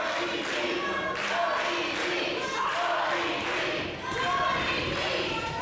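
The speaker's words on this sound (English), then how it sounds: "And the crowd trying to fire him back up." A crowd at a Jeff Black vs Jonny DeLuca match roars and cheers steadily to fire up the competitor, a loud, continuous wash of voices with rhythmic chanting swells throughout.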